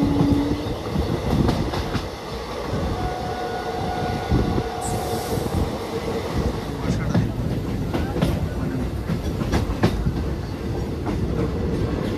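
The Hool Express from Howrah to Siuri rumbles along the rails on a foggy winter morning, a steady loud clatter of wheels and carriage noise with a brief high squeal midway and some background voices.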